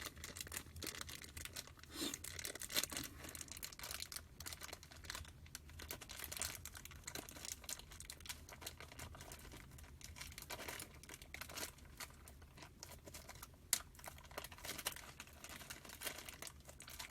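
Plastic cable bag being torn open by hand, a steady run of crinkling and ripping with scattered sharp crackles, close and fairly quiet, continuing without pause.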